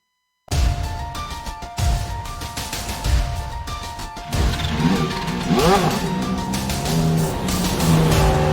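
Race car crash at WeatherTech Raceway Laguna Seca during a Kamel GT Championship round: loud engine roar with sharp impact and crunching bursts, then sustained mechanical noise and scraping as the car continues, no talk.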